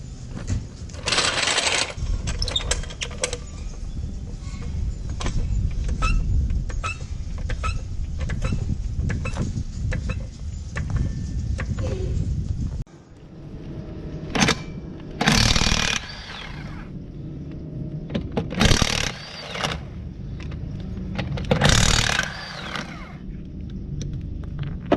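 Mechanical work removing a wheel from a Polaris vehicle: metallic clanks, rattles and scraping of tools and parts close by, with a steady rumble and several sharp louder bursts later, no talking.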